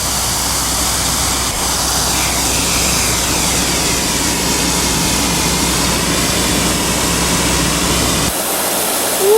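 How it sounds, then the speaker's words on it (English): Water sprays hard from fire hoses during a firehouse practice drill, a loud, steady broadband rush that holds unbroken for about eight seconds before cutting off abruptly near the end. "Look at all that water!"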